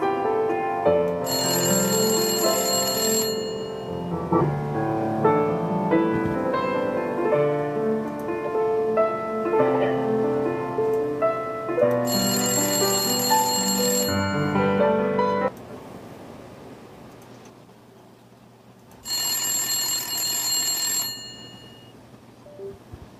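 A telephone rings in bright, trilling bursts, three separate rings spaced several seconds apart, moderately loud over a muted music background with no talking.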